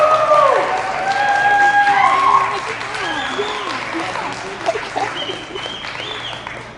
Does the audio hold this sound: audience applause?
yes